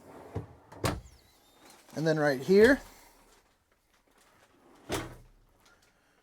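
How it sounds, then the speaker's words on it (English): A couple of sharp knocks, then talking, followed by a single thud a few seconds later as two pull-out drawers slide out and stop in a 2023 Gravity 3610 toy hauler. "2 pull-out drawers just like that."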